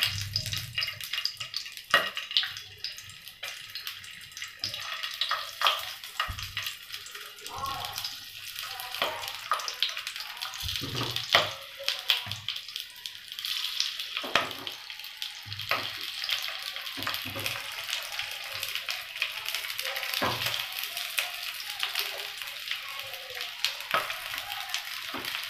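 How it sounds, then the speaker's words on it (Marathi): Green chillies fry in hot oil in a pan, giving irregular crackling and spitting bursts over a low hiss, with scattered sharp pops, close and fairly quiet. "आणि तेल गरम झालं की आपण मिरची घालूया"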